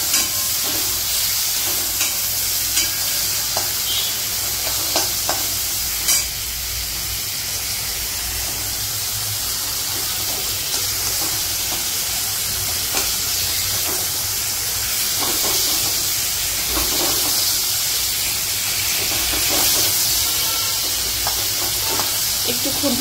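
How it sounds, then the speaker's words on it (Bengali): Shrimp frying in hot oil with five-spice seeds and dried red chillies, a loud steady sizzle and hiss running throughout, with occasional scrapes and stirring clatter close by. "তেল গরম হয়ে গেছে, এতে 5 ফোড়ন আর শুকনো লঙ্কা দিয়ে দিলাম। এতেই সোজা আমি চিংড়ি মাছগুলো দিয়ে দেবো।"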